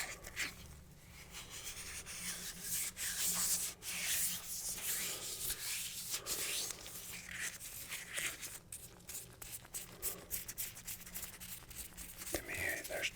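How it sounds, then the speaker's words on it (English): Hands rubbing and crinkling for ASMR, a close, continuous dry rustle and scratchy texture with fluctuating intensity over several seconds, with soft whispery breath-like noise mixed in. "it's really just like crinkling"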